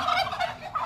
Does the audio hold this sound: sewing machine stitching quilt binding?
no